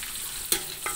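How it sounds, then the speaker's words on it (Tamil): Chopped onions fry for chicken biryani on a wood-fired stove on a rooftop, giving a steady close sizzle broken by two quick spoon-stirring scrapes. "வெங்காயம் நல்லா வதங்கட்டும்."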